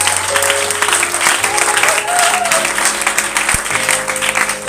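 A church congregation claps loudly and steadily to acclaim the Holy Spirit, with sustained applause running throughout and some voices mixed into the crowd noise.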